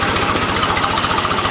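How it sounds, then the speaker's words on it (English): A choked tractor engine on the verge of stalling chugs close and loud in a steady, rapid, rough rhythm. "Now Mr. Tractor's about to stall because of the choke."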